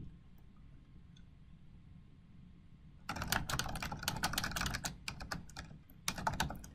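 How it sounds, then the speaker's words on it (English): Typing on a computer keyboard, heard as bursts of rapid, crisp key clicks up close against a quiet room, with a brief pause before a final flurry of keystrokes. "I want you to start typing"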